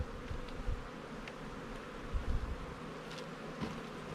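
Honey bees droning steadily around an open hive, a dense, even buzz heard up close with occasional louder passes of single bees.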